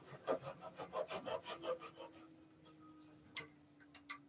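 Small saw cutting off a little wooden nib on a toadstool nutcracker, about a dozen quick rhythmic rasping strokes close by, then stopping, followed by a few faint taps and clicks.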